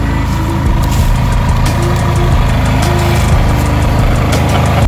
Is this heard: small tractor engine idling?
yes